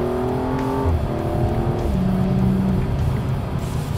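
A BMW M235i xDrive engine revs and blips through rapid automatic rev-matched gear changes, its pitch stepping up and dropping in quick bursts, loud and close from inside the car with no talk.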